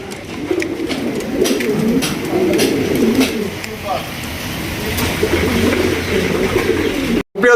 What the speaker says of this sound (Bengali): এখানে রয়েছে এক জোড়া ব্লু বার সবজি কিং কবুতর দেখতে পাচ্ছেন